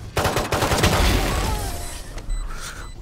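Rapid bursts of video game gunfire in a tactical shooter, a dense clatter of shots in the first second that fades into echoing tails and a few scattered later sounds.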